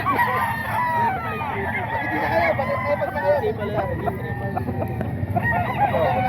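Chickens and roosters at a market cluck, squawk and crow in a dense, constant chorus close by, while people talk over the birds.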